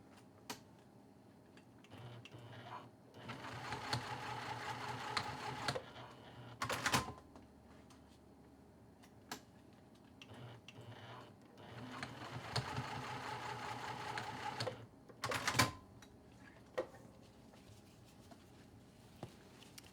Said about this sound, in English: we're just going to stitch this end to itself